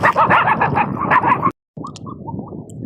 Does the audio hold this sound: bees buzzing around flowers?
no